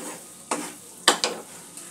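Bengali spice paste for a pabda fish curry stir-fried in a pan, heard as three or four quick, close scraping strokes of a spatula over a faint sizzle.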